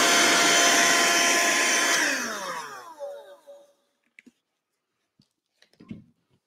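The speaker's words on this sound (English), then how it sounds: "I'm just vacuum off the excess now just to see what it looks like." A vacuum cleaner sucking excess fake snow off a model railway whines loudly for about two seconds, then winds down with a falling pitch into near silence broken by a few faint clicks and knocks.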